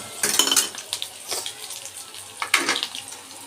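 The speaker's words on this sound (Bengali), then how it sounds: "তেলে ছেড়ে দিয়েছি আর ভালো করে একটু ভাজতে হবে, একটু লাল লাল করে ভাজতে হবে" Green chili pakoras fry in hot oil, giving bursts of crackling sizzle that swell loudly near the start, ease off, then flare again toward the end, with no voices.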